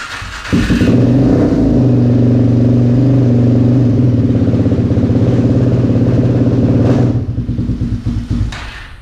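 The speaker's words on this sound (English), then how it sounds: "They're gonna crank this thing over, see if they got everything hooked up right." A vehicle engine, freshly installed during a body build, cranks briefly and then catches, settling into a steady, loud idle with a rough rhythmic pulse for several seconds before the revs drop near the end; no talk.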